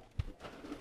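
A pigeon gives a single short, low coo, close and fairly clear, against a quiet background with faint rustling.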